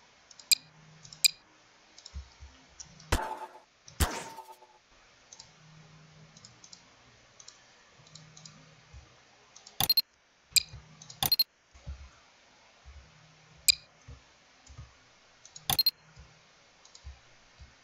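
Sharp computer mouse clicks, single and in quick pairs, scattered irregularly over quiet near-silence with faint low thumps between them.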